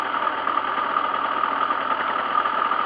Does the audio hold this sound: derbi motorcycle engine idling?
yes